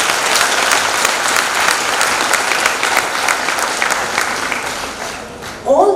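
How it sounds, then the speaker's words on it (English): An audience at the Innerve 2022 annual technical festival of IGDTUW breaks into loud, sustained applause, steady clapping that fills the whole stretch and fades slightly at the end as a voice begins. "Let's give them a big round of applause."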